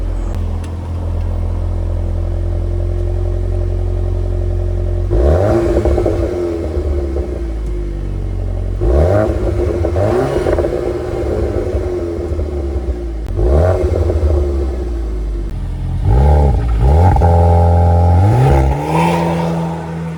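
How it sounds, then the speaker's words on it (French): A VW Golf 8 R with an Akrapovic exhaust fires up with a loud, deep rumble, settles into idle, then gives several sharp rev blips that rise and fall, growing busier toward the end. "On se fait un petit démarrage pour écouter le son que fait la ligne Acra et on y go."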